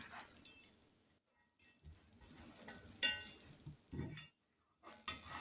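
Knife clinking and scraping against a cast-iron skillet while slicing homemade pizza, a few sharp metallic taps and short scrapes, close and fairly quiet with pauses between strokes.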